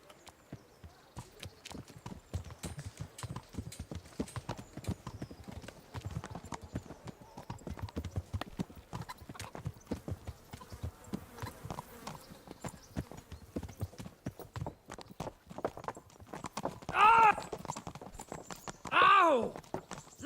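Horse hooves clip-clopping steadily as a rider travels in a video game, a brisk continuous rhythm of hoofbeats throughout, with a couple of short whinnies breaking through near the end and faint voices underneath.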